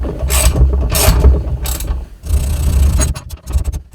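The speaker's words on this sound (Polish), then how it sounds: "za pomocą dwóch rurek, nakrętki oraz większej nakrętki oraz pięciu takich podkładek i śruby M10 mamy to wprasowane" A wrench ratchets an M10 bolt that presses bushings into a 139QMB GY6 four-stroke scooter engine using tubes, nuts and washers. Loud, close clicking comes in short repeated bursts, then a longer continuous run of ratcheting.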